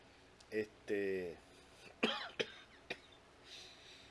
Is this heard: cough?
yes